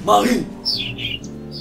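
A bird call played for a sound guessing game gives a few short, bright chirps following a brief moment of talk, moderately loud and close.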